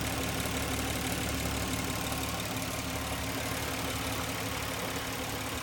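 A stock 1998 Infiniti I30 idles with a steady, even hum, holding constant and unbroken for the whole stretch with no voices over it.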